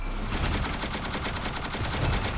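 Rapid bursts of gunfire in a frag battle royale video game, dense repeated shots crackling close and loud throughout with no pause.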